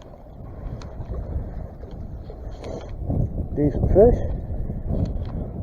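Gusty wind of about 20 mph rumbles against the microphone on a boat while fishing for bluegills, a steady low roar that swells and fades, with someone speaking briefly over it.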